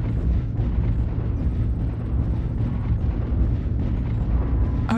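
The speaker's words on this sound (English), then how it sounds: "Artillery strike online." Artillery strike explosions in a video game, a continuous heavy low rumble with overlapping booms and distant blasts, steady and fairly loud, with a sharper burst near the end.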